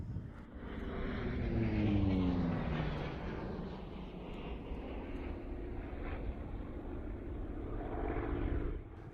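Hawker Fury piston-engined fighters fly past in formation at an airshow at Duxford, a steady droning engine roar that swells and fades over several seconds, fairly distant.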